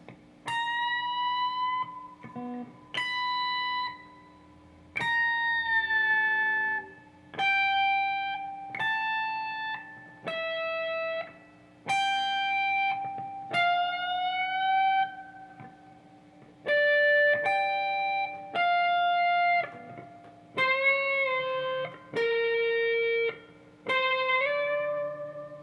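An electric guitar plays part of a riff and lead at a slow pace, a steady series of distinct, sustained picked notes and bends with brief gaps between phrases, no voices.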